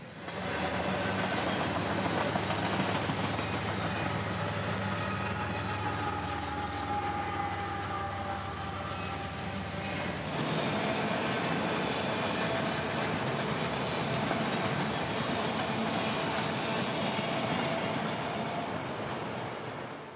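A Florida freight train carrying auto racks and mixed freight rolls past for about twenty seconds, a loud continuous rumble with rattling cars and faint wheel squeal, shifting tone midway as different cars go by.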